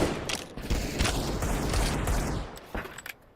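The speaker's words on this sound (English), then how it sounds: "Going for the deagle shots." Rapid gunfire in a CS:GO tournament final, including Desert Eagle pistol shots, cracking as a dense burst of close shots that fades out near the end.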